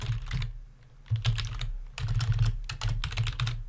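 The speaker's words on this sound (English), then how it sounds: "you need to type in exactly what it says" Someone types a chart title in Excel on a computer keyboard, with rapid bursts of close key clicks broken by short pauses.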